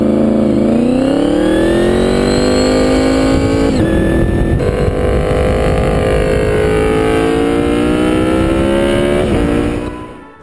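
A Honda VFR V4 sportbike engine with an aftermarket exhaust system, loud and close, holding a high rising whine with tonal harmonics and brief shifts in pitch before fading at the end.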